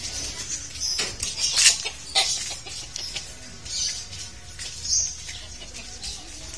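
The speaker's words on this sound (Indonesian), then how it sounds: "Ada ayam." Chickens cluck and squawk in short bursts at a park, moderately close, with faint background noise and no talking.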